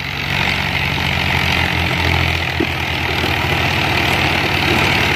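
Tractor engine labouring at full power against a heavy loaded trolley, a loud continuous low droning rumble with steady throbbing, no voices over it.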